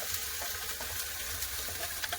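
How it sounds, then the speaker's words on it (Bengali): Ground green peas go into hot oil in a wok and fry with a continuous close sizzle and hiss that stays even throughout. "এবার বেটে রাখা কড়াইশুটি দিয়ে দেবেন"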